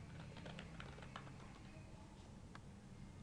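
Keys clatter in quick, uneven taps as a search is typed on a computer keyboard, quiet and close over a steady low hum.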